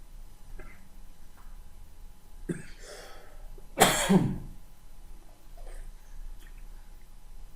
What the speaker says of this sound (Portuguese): Tossindo um pouquinho